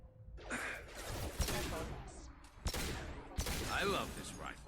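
Rifle fire in Mass Effect 2 comes as three distinct sharp shots spaced about a second apart, mixed with game effects and someone talking throughout.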